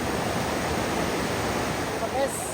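The flooded Cipeles river rushes below, a steady broadband roar of fast water heard from close by, continuous and even throughout.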